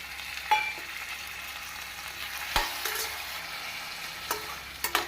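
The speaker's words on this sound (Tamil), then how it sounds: "தக்காளி பழம் போட்டு நாம் ஒரு நிமிடம் நன்றாக வதக்கிவிடும்" Tomatoes, green chillies and onions sizzle and crackle steadily in a hot pan, with a few sharp scrapes and clinks of a utensil stirring the mix.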